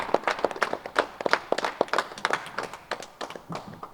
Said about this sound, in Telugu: ఒకసారి అందరూ గట్టిగా మనందరూ గురు పత్రిక గట్టిగా చప్పట్లు కొడదాం.